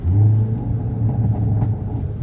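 A Hyundai Elantra N with a stage 2 tune and EK1 lite turbo makes a pull on a cold day: a loud, deep engine rumble and drone, close by, steady for the short stretch.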